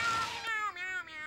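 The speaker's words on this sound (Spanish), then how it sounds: "Miau, miau, miau, miau, miau." Cats meowing in a Spanish-dubbed SpongeBob cartoon, several loud, close, drawn-out meows in quick succession that overlap one another.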